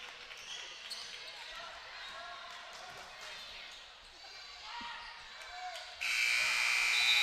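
Gym noise at a senior high girls' district basketball game, with squeaking shoes and a murmuring crowd, then a loud, harsh final buzzer sounds near the end and holds.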